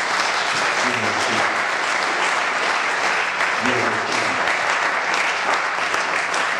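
A church congregation breaks into steady, sustained applause, with many hands clapping at once filling the room, and some voices calling out beneath the clapping.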